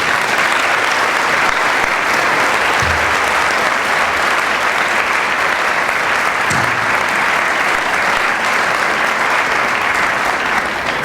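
An auditorium audience at a Founders' Day convocation applauds steadily to welcome a speaker, a dense, loud, unbroken wash of clapping throughout.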